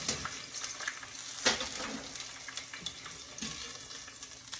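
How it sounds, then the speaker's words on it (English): Pieces of General Tso's chicken frying in oil during a double fry give a soft, steady crackle, with a few sharper pops and faint watery splashes, quiet and close. "we are going to fry it in a double fry"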